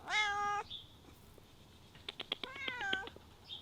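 A cat named Callie meowing, one drawn-out close meow followed by a pause, quick soft clicks and a second wavering meow, fairly quiet with no talking over it.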